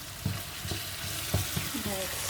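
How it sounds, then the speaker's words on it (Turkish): Food sautés in a hot pan for a Turkish flour-and-water dough dish, with a steady sizzle broken by a few sharp stirring scrapes and taps. "Bunu güzelce kavurdum."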